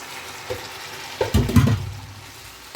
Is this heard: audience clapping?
no